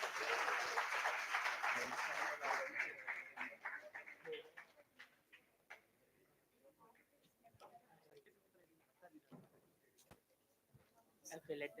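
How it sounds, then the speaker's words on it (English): An audience at a hackathon event applauds a team, a burst of clapping that starts dense and loud and then thins to scattered claps with a few late ones near the end. "Please give a round of applause"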